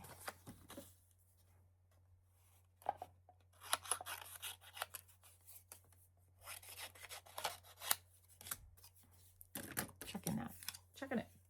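Tape is pulled from a roll and pressed onto a paper book page in a series of sharp ripping and rubbing bursts, close and intermittent, with a person talking between them.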